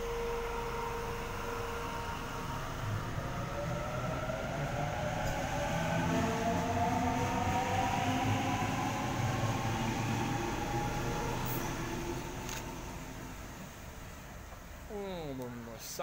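A Sydney Trains set departs a sloped platform at Canterbury station, with a steady rumble and rising whine of traction motors building and fading over about sixteen seconds, and a brief horn-like tone near the end.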